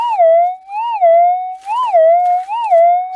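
Metal detector target tone through an external speaker, a loud steady electronic tone that warbles up and down in slow regular waves, with faint scratchy noise bursts midway; no talk.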